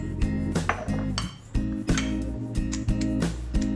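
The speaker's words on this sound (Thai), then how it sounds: "ก็เอารากผักชีนะครับกับกระเทียมใส่ลงไปก่อนแล้วก็ทำการโขกไปเรื่อยๆนะครับ" Garlic, coriander root and pepper pounded in a mortar for a pork marinade: steady, close, sharp knocks of the pestle repeating several times a second, ringing with hard clinks, no talking.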